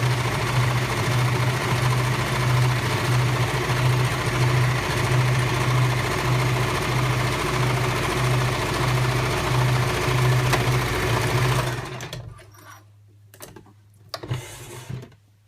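A sewing machine back stitching the end of a seam on a heat bag, running with a steady, close mechanical whir for about twelve seconds before stopping, followed by a few faint handling clicks.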